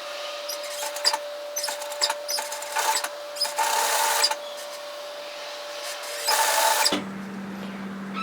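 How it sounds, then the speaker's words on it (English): A sewing machine tack stitches a bomber-style varsity jacket in short, stop-start bursts of whirring with clicks between them, close and moderately loud, ending as a low hum takes over. "I'm going to tack stitch this in at 5mm"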